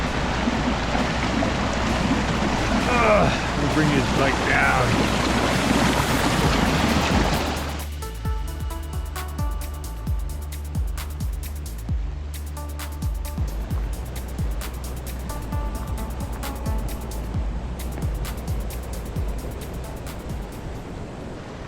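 Rushing mountain stream water flowing near a whirlpool, loud and close through the first seven seconds, then continuing more softly beneath someone talking.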